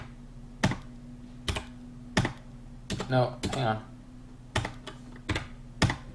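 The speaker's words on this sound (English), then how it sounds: "My keyboard is messed up." Sharp computer keyboard taps and key presses come in irregular single strikes and short bursts, close and clear, while someone speaks briefly between them.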